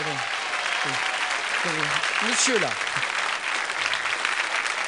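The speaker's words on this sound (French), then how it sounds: "Je vous demande d'applaudir très fort." A French television studio audience claps steadily throughout, a dense wash of hands under a voice speaking briefly over it.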